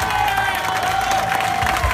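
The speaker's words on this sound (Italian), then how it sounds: "Goditi l'applauso della tua gente" A dense crowd roars and cheers with applause for a finishing runner, continuous and loud for a couple of seconds, a whistle-like tone riding above.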